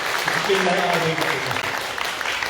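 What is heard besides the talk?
congregation applauding in church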